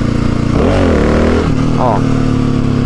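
A motorcycle engine revs up as the rider gives more throttle to lift the front wheel in a wheelie, loud and close, with a rising rev and a second short blip over a steady idle.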